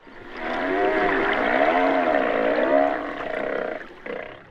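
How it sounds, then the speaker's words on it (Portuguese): Humpback whale song rises and falls in long, sweeping, wavering tonal moans, one sustained melodic call swelling loud then tapering into shorter fading notes, with no voices. "As canções das baleias que se comunicam a grandes distâncias com suas melodias."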